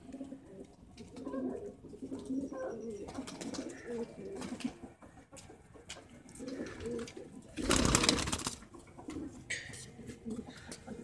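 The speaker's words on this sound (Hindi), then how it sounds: "ये भी हाई फ्लायर कबूतर है" High flyer pigeons coo in soft, low repeated phrases at close range through continuous background noise, with a brief loud burst of noise partway through.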